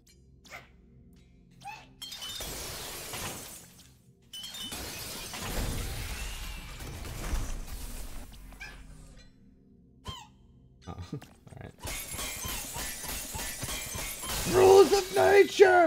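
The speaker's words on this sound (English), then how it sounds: "Oh, the controller's making noise." Tinny sound effects from a game controller's built-in speaker playing Astro's Playroom, held up close: scattered squeaks, shattering bursts and clatter between quiet gaps.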